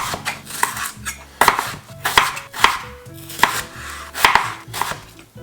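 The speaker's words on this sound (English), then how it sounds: "I washed a bunch of potatoes and then cut them in chip sizes" A knife chops potatoes into chip-sized pieces for fries on a cutting board, with a series of close, sharp, rhythmic thuds against the board and no voices.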